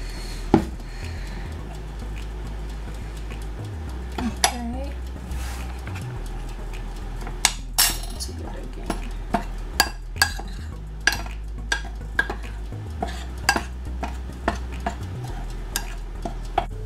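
Rice flour, white rice and salt stirred together in a bowl, a steady scraping stir with sharp utensil clicks against the bowl repeating near and loud, while a voice talks over parts of it.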